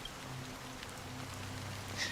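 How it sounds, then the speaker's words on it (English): Fine drizzle of black rain falls in the Honkai: Star Rail game world, a soft, even hiss of raindrops under a faint low hum, quiet and steady throughout. "Amidst the fine drizzle of black rain"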